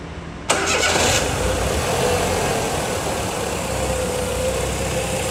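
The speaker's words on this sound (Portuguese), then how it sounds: "Vamos ligar lá o carro então." A Ford Focus engine cranks and fires, then settles into a steady, close idle hum that continues to the end.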